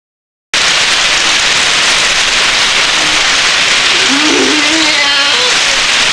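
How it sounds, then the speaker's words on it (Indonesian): Dense, steady hiss of heavy rain starts abruptly and pours continuously, loud and close, with faint voices barely audible underneath. "hujan deras tiba-tiba turun"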